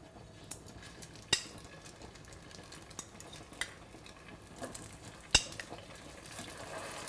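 Kumara gnocchi go into shimmering oil in a wide pan, giving a faint, even sizzle broken by a few sharp clinks and scrapes of utensils against the pan, with no voices.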